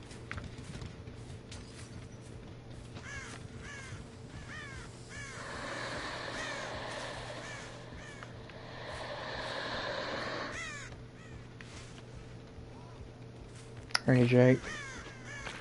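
Crows in Dead by Daylight caw in a few scattered bursts and flap away, with a brief louder flutter near the end. Someone talks at moderate volume over game ambience.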